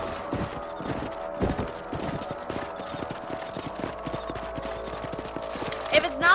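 Horse hooves clip-clop across the ground in the Red Dead Redemption video game, a steady rhythmic trot that continues throughout, mixed with other game sounds and occasional thumps.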